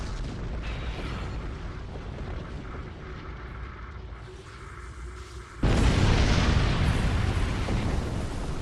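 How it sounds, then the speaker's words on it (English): A starship blows up in the space game Star Trek Online with a sudden loud roaring blast that cuts through a steady rumbling battle din and holds as a dense, sustained roar. "That was quite an explosion."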